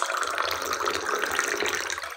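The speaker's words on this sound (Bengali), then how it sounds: "গরম জল মিশিয়ে খেয়ে নিই একটু বেশি করে" Hot water poured to mix into drinking water at home: a continuous close splashing stream lasting about two seconds, alone and fairly loud.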